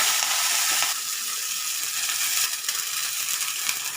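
Garlic paste and chili powder fry in hot oil with cumin in a pan for a Gujarati green cowpea curry, giving a steady, close, bright sizzle that holds throughout, with no one speaking.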